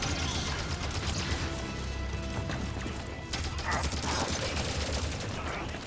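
A suppressor weapon fires in Halo 5: Guardians, giving a dense rapid burst of crackling shots that runs nearly unbroken, then a brief lull and a second stuttering stream of clicks and impacts within busy game sound.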